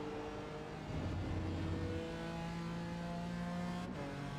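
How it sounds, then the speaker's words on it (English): A BMW GT4 race car engine in a sim racing game at Silverstone, a steady whining drone that shifts pitch as the revs rise and fall, with a gear change about a second in, heard alone at moderate level. "Do love the sound of the BMW."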